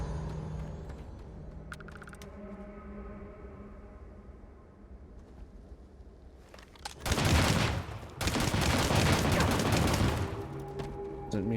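Bursts of gunfire in Starfield, a dense rapid volley that breaks in after a quiet stretch, pauses briefly, then resumes loudly with game ambience beneath.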